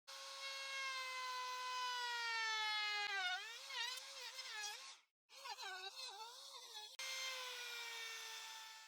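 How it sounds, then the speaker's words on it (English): A router rounds over the edges of repurposed wood, its loud high-pitched motor whine sliding up and down in pitch as it loads and unloads, with a short gap midway before the cut resumes. "I use the router again to round over the edges."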